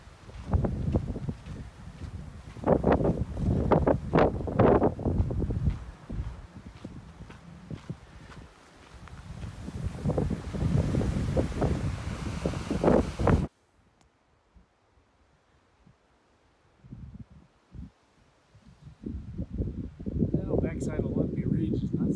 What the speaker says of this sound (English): but boy, with the wind, sure bites